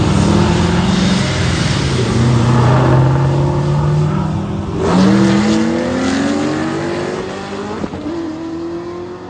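A supercharged car at a street takeover revs hard and accelerates, its engine loud and close with rising pitch sweeps, a brief tire squeal, and a final sharp rev before the sound eases off.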